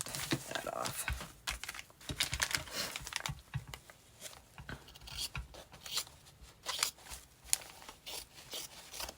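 Scissors snip paper away from the edge of a pink journal cover in a run of close, crisp cuts and crinkles, each snip sharp and brief amid rustling paper handling.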